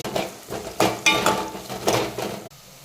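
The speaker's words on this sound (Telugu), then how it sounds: "కట్ చేసిన గ్రీన్ చిల్లీస్ అండ్ ఆనియన్స్ వేయాలి" Chopped green chillies and onions hit hot oil with cumin seeds in a pan, giving soft sizzling with several clinks and scrapes of a spoon against the pan, fairly quiet and with no talking.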